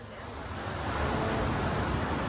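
Strong sea waves surge near a cave, a steady broadband roar of surf with wind that builds slightly and stays loud and continuous, with no voices.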